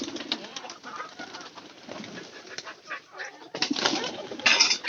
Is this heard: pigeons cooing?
yes